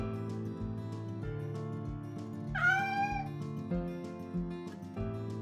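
A house cat lets out one drawn-out, rising and falling meow in a home kitchen during carrot prep, clear and fairly close over steady background music.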